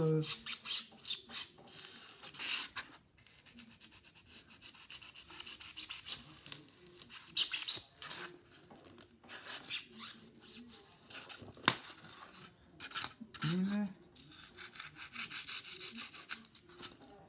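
Small piece being carved by hand for a model train station, with intermittent scraping and rasping strokes of varying loudness, close and fairly quiet, separated by brief pauses.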